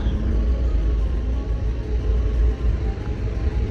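A steady low engine rumble from a New Surabaya Indah sleeper bus, with broadband road noise, continuous and fairly loud, no voices.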